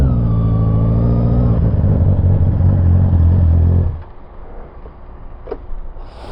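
A Honda CB650R motorcycle engine revs loud and close, its harmonic roar climbing and holding for about four seconds before dropping to a low idle rumble with a few small clicks.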